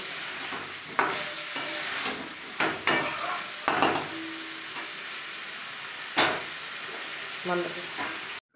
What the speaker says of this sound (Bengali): যতক্ষণ না মাংস থেকে তেলটা ছেড়ে আসছে ততক্ষণ নাড়তেই থাকবো।